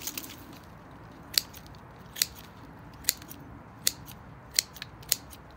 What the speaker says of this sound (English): Cut the roots nicely, diagonally cutting it like so